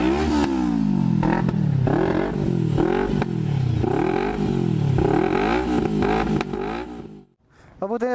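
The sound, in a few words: big bike motorcycle engine started and revving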